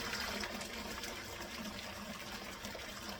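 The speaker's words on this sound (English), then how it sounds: "I'll pour slowly. I'm going to save all the juice that came from this," Chicken cooking juices poured slowly from a pot into a container, a steady close liquid trickle and splash running continuously without talk.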